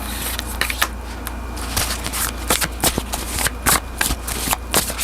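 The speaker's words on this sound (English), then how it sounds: "So let's just shuffle your tarot first." Tarot cards are shuffled close up in a rapid, uneven flurry of crisp riffling slaps and flicks that runs for several seconds.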